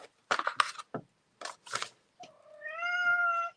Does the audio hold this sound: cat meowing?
yes